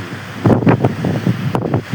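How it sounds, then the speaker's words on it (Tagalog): Big surf and strong wind at the sea of Atimunan, Quezon, with waves rolling and crashing loudly and wind buffeting the microphone in a steady roar. "Malalaki ang alon dito sa Atimunan, Quezon."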